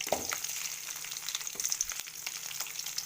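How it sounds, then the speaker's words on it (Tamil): Mustard seeds, pepper, fenugreek, cumin and curry leaves sautéing in oil in a pan, a close sizzle with sharp popping bursts and stirring scrapes. "கடுகு, மிளகு, வெந்தயம், சீரகம், கருவேப்பிலை போட்டு நல்லா வதக்கிக்கோங்க."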